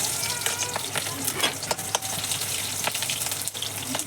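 Chopped onions frying in a hot pan, a steady broadband sizzle with scattered stirring clicks and scrapes close by, continuous throughout with no talk.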